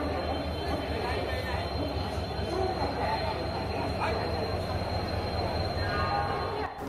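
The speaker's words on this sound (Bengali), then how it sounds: "প্ল্যাটফর্মে ট্রেন ঢুকছে" A train rolls into the platform at Howrah station with a steady, loud rumble of wheels and carriages, and busy crowd voices murmur over it throughout.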